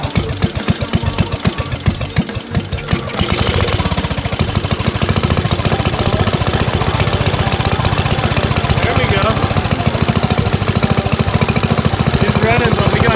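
Small single-cylinder engine of a 1966 Gravely Commercial 10 walk-behind tractor running after restoration, a loud steady chugging with rapid even firing pulses, sputtering unevenly at first before settling into a continuous throb.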